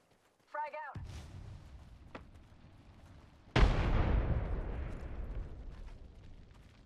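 A frag grenade explodes in Apex Legends: a short synthetic chirp, then a thud and a lingering rumble, followed by a second loud blast with a long rolling decay.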